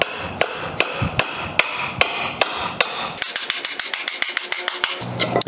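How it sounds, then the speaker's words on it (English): Nail being hammered into wood while building a bike stand: sharp, evenly spaced blows at first, then a faster burst of lighter taps, close and loud with no talking. "so I can just drive this nail right in."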